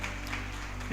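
A church congregation applauds in steady, dense clapping that fills the whole moment without a break, with no voices over it.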